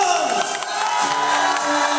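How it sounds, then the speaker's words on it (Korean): A crowd cheers and whoops at a live band concert, a loud, continuous wash of shouting with a musical tone sustained underneath, lasting about two seconds. "함성!"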